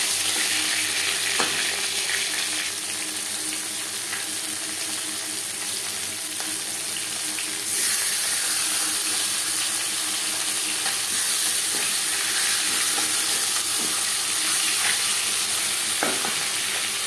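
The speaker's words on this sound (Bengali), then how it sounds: "জ্যান্ত মাছ আমি তাই হালকা করে ভেজে নিলাম" Silver carp pieces fry in a wok, a loud close sizzle running throughout, punctuated by occasional spatula scrapes and clicks and a brief surge in intensity partway through.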